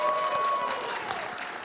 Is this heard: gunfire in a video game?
no